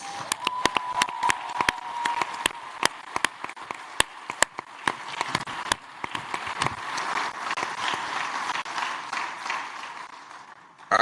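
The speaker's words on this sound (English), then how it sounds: "would you just give them a round of applause?" An audience at a global forum event applauds, a dense wash of clapping with a few sharp louder claps early, steady and sustained for the whole stretch without voices.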